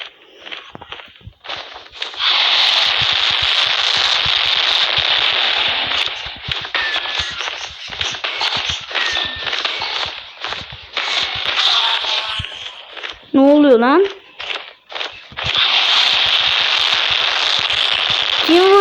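Minecraft player-hit sounds come as a dense run of sharp, clicky bursts over steady game noise. They thin out briefly around a short wobbling tone, then pick up again.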